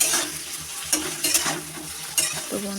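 Eggplant pieces seasoned with salt and turmeric fry lightly in hot oil, giving a close, crackling sizzle with several sharper bursts and spatula stirs.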